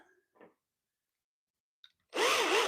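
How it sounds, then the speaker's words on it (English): A short burst of a power drill whirring loudly near the end, driving deck screws into wood at a slight angle, after a few faint brief sounds and a long silence. "And then I drill in at an angle, slight angle, so I'm hitting more of the meat."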